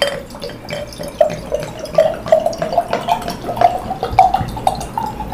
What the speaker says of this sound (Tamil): இது வந்து இப்போ எம்டி பாட்டில், ஓகே, தண்ணி ஊற்றிடுறேன்.